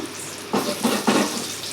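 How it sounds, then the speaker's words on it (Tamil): Mustard seeds spluttering in hot oil while tempering for an Andhra-style brinjal chutney, a close sizzling hiss with three louder bursts of popping and crackling. "கடுகு நல்லா வதங்கட்டும் பொறிஞ்சு வரணும்"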